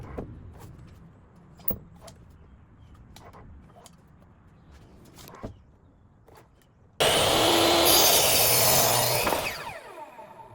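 A power saw cuts wood for cabinet feet: after scattered workshop knocks and clatter, the saw starts abruptly and whines loud and steady for about two seconds, then spins down.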